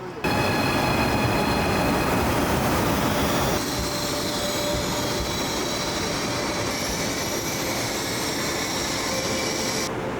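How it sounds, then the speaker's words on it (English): A fast bullet train in China rumbles steadily along the rails with a constant roar and faint high-pitched whine, heard from inside or close alongside. "we had to take a bullet train"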